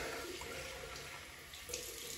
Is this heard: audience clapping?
no